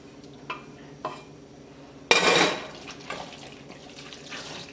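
A spoon stirs chop suey sauce into pasta in a metal pot, giving a few soft scrapes and clinks, then a brief louder splashy burst and quieter wet stirring, no talking.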